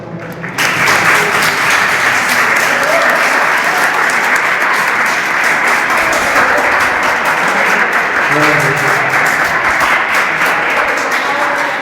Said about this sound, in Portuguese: desse uma salva de palmas para ela